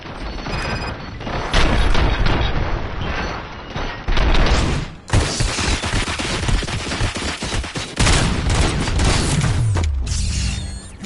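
Heavy gunfire in the video game Robocop Rogue City. Loud automatic bursts and crashing impacts come in dense waves, with a short lull near the middle and another near the end.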